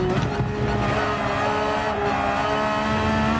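A Porsche 911 race car at Watkins Glen in Gran Turismo 7 holds a loud, steady high-revving engine note with a strong harmonic whine, continuous and close throughout.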